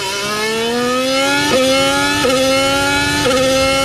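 A Formula One car's engine climbs through the gears at Bahrain, loud and steady, with rising harmonic tones broken by brief dips at each upshift, about three shifts in quick succession.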